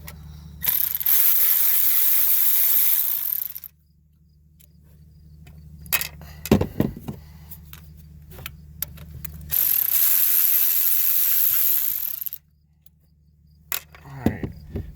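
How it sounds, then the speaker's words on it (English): A ratchet removing bolts on a 2008 Smart Fortwo during fuel injector work: two long bursts of rapid, close, loud clicking, separated by quiet gaps and a few sharp knocks. "you got to take these two bolts off."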